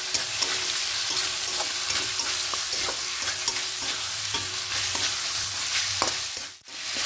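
Marinated chicken stir-fried with spice masala for coriander chicken crackles in a loud, steady sizzle, with frequent spatula scrapes against the pan throughout and no talking.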